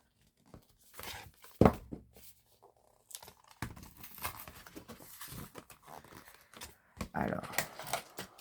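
Paper rustles and crinkles as a taped package of paper die cuts is opened, with tearing and crumpling noises coming close and intermittent, mixed with soft speech throughout.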